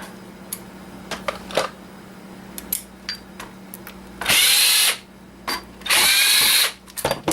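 A power drill drives screws out of an old network switch in several loud whirring bursts, mixed with clicks and the clatter of handling hardware up close.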